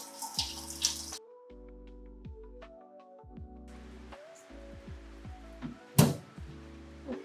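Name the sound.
water filling a bottle from a tap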